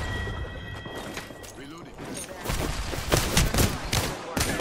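Wingman revolver shots in Apex Legends ring out amid a busy firefight, with repeated loud cracks and other gunfire over a noisy background, mostly in the second half.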